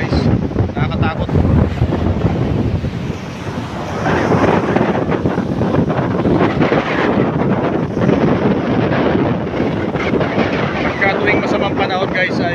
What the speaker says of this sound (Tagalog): Laki ng mga alon yan guys, nakakatakot.